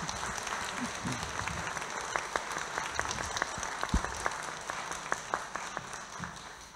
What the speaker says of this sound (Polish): Myślę, że mówcy zasłużyli na wielkie brawa.